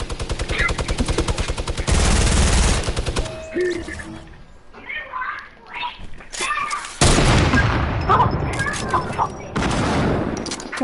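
Gunfire in Fortnite, loud rapid automatic bursts at the start, a pause filled with voices, then more heavy sustained shooting and booms.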